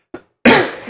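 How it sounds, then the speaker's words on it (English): A person coughs, first with one small faint cough and then with a loud, harsh cough close to the microphone that trails off. "Sorry, I'm just going to cough."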